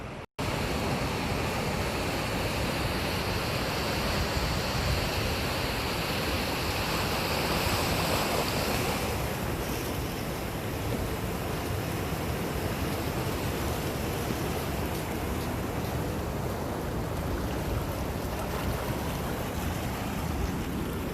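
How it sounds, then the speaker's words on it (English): Tidal bore wave pushing up a river from the sea, a steady broadband rush of churning water with wind buffeting the microphone, continuous and loud for about twenty seconds with no voices. "it makes like a cool little wave that you can watch cruising up the river"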